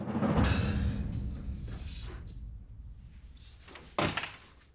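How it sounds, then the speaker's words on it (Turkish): A door opens indoors, with a soft thud and rattle early on, a quieter shuffle through the middle and a sharper knock near the end, all close and without talk. "al işte kapıyı açıyor"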